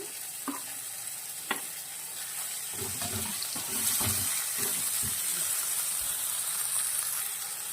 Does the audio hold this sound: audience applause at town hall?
no